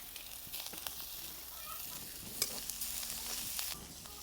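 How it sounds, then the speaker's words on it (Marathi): Green chillies and chopped coriander fry in an iron kadhai for samosa filling, a soft steady sizzle with occasional crackles and stirring scrapes. "मिरची चांगली तळून झाली."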